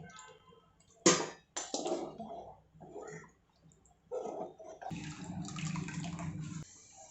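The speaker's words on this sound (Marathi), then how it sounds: "डाळीच्या वरचं जे पाणी काढलं होतं ते आपण याच्यात वतून घेऊयात" Lentil cooking water is poured into a pot in a few bursts, splashing and gurgling close by, with a longer steady pour toward the end.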